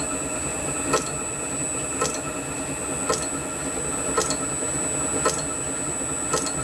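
A lathe machining a metal part for an oscillating engine frame, with a steady mechanical hum and high ringing tone broken by faint, regular clicks about once a second.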